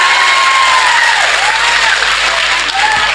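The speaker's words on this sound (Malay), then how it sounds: "Tepuk tangan yuk" An audience at a humorous Islamic sermon breaks into loud, sustained applause that fills the whole moment, with a faint voice and some whistling tones rising above the clapping.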